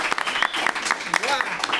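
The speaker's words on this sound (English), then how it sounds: "I want the live studio audience to give themselves a round of applause for being here tonight." A live studio audience at a podcast recording gives a short round of applause, with quick, uneven claps and a bit of talk mixed in.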